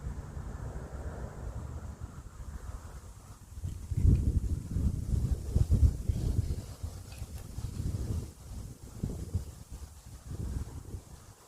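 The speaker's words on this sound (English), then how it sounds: "I don't know if the camera's picking up the wind." Steady outdoor wind rumbling and buffeting against the microphone, low and continuous, swelling in gusts through the middle, with no speech.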